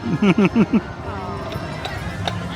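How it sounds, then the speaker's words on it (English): A horse's hooves clip-clop on Main Street at Disneyland Paris, giving a quick run of four close, distinct hoof strikes at the start before fading into ambient street noise, with a person speaking. "And of course, the wonderful Disney horses."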